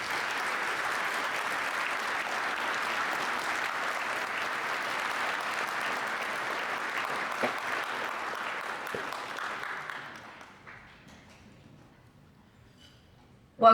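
A conference audience applauds in welcome for keynote speaker Carly Fiorina, a steady, dense wash of clapping that holds for about ten seconds, then thins out and fades into near silence.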